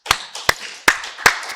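Handclaps from a church congregation during a Sunday worship service, four sharp claps at a steady, unhurried pace that echo in the room, with no voices.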